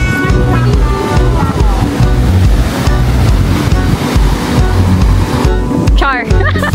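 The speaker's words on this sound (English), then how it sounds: "the waves are crazy" Loud ocean waves crash and rush with gusty wind noise on Siargao island, while people talk over the roar of the surf.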